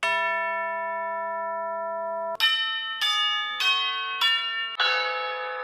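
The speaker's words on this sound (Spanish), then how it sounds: "aparecieran unas campanas tubulares de verdad" A long, ringing metallic tone sustains alone, then five bright bell strikes follow in quick succession, each note shimmering as it decays.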